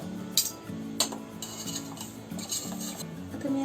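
A chocolate truffle cake is lifted out of a pressure cooker, with metal pot and utensil clinks and scrapes sounding close by at irregular intervals over a steady low hum.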